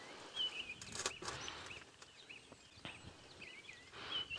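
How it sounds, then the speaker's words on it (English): Several birds chirp and call in open air at dawn on a safari drive, scattered whistles and short calls over a faint background hiss, no one speaking. "And it's just the most beautiful sound here, all the birds waking up."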